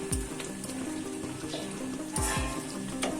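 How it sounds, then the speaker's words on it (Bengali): Biryani meat fries in a pan and is stirred gently, with steady sizzling and hissing broken by a few scraping stirs of the utensil, close and moderately loud. "এবারে আমি হালকা করে নাড়িয়ে নেব।"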